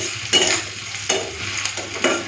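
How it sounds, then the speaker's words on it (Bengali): Onion and chillies lightly frying in a pan for a mashed small-shrimp dish, a steady close sizzle broken by three louder stirring scrapes at even intervals, with no voices. "হালকা ভেজে দিই, বেশি লাল করে ভাজবো না, হালকা ভাজবো।"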